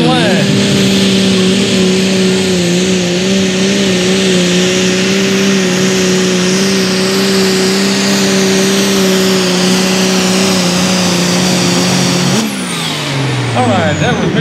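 A diesel-powered Light Limited Super Stock tractor pulls at full throttle during a pulling event at Ardmore, Tennessee. The engine holds a loud, sustained roar that drops sharply near the end as it cuts power.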